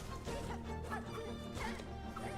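A dog barks and yips in several quick bursts, mixed with whimpering and a background clatter, fairly close and moderately loud.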